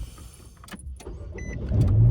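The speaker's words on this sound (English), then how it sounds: "oh, my car came on" A car starting up: a brief whir, then the engine catches and a steady, growing low rumble builds close by.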